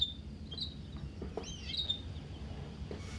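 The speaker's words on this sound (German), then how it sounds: "Oh, ein Vogel." In the video game Heavy Rain, a bird chirps in a few faint, thin, high calls spread over a quiet, low background rumble.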